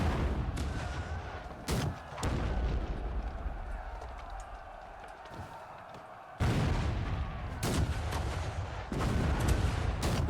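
Catapults fire in a Black Desert battle, heavy booming impacts and thuds repeating irregularly over a dense rumble of war noise, with sharp loud bursts near the start and again toward the end.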